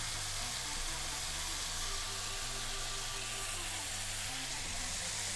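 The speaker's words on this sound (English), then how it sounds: "It's all frying beautifully" Sausages and mushrooms frying in a pan, a dense continuous sizzle with a steady low rhythmic pulsing underneath.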